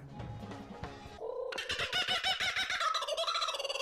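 A bird coos in a warbling, throaty way, then breaks into a loud, rapid, stuttering burst of calls that grows busier toward the end.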